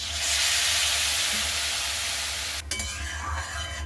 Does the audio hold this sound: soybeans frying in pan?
yes